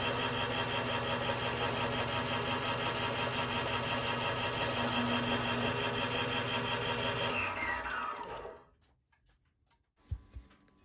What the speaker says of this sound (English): put the reamer in there and make the final cut in my bushing here